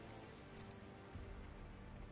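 Steady light rain patters softly and evenly outside a small restaurant in the rain-soaked city of the Cloudpunk video game, a quiet continuous hiss with no voices.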